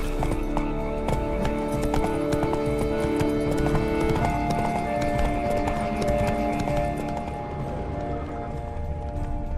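Steady clip-clop of horse hooves trotting close by in The Witcher 3: Wild Hunt, continuous and fairly loud, with a faint snort or whinny mixed in.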